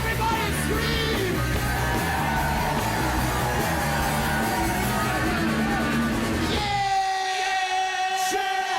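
A live crowd at a 2012 rock concert screams and yells in a loud, sustained roar over the band's playing, then the noise drops away abruptly near the end, leaving ringing tones.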